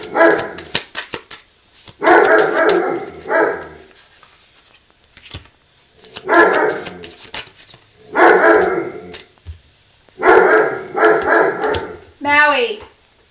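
A dog named Maui barks in repeated loud, close bursts of several barks each, separated by short pauses and ending in a whiny yelp, while a person talks between the bursts.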